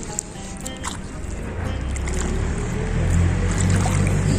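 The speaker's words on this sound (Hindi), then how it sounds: "अब जो आसानी से जा रहा है पानी।" Water trickles and gurgles away through a small channel scraped in soil beside a rented town house, a soft, close, continuous flow that swells slightly louder toward the end.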